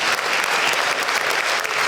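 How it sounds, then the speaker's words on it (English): A room full of people at an evening reception claps steadily, a dense, even wash of applause from start to finish with no voices. "So let's give him a round of applause."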